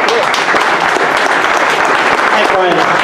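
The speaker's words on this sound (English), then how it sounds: "Have a round of applause and let's enjoy it." Steady applause from an audience at a Kansas City hacker community talk, dense and continuous clapping with some cheering voices mixed in throughout.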